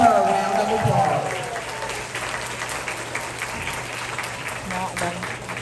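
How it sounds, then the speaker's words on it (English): Audience applause for Kathy Sue receiving the Principal's Award at a June 2023 school promotion ceremony. A brief voice opens, then steady clapping from a crowd continues for several seconds. "Let's give her a round of applause"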